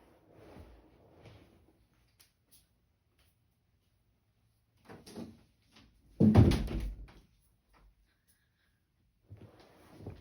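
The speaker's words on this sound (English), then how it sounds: "Hold on, I'm going to shut my door." A door in a home is pushed shut with one solid thud and a short rattle, set between faint quieter knocks and movements in an otherwise quiet room.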